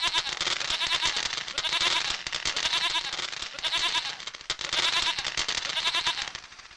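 A goat in a cartoon story bleats repeatedly, loud and close, in four long quavering calls separated by short pauses, heard alone with no talk.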